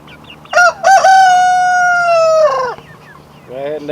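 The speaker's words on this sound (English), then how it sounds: "They're starting to make regular little chicken noises." A young chicken lets out a couple of short squeaky notes, then a long, wavering crow-like call, followed by another brief squawk.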